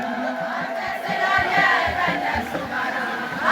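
A large crowd ululates at a St. Gabriel church feast, a dense, loud wash of high trilling voices sustained throughout with some louder swells.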